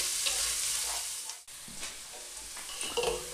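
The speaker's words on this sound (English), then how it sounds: "we'll give that a stir and fry that for a few more minutes" Leftover turkey sizzles and fries in a pan while a utensil stirs it, a steady close-up crackle broken by scraping stirs, with no talking.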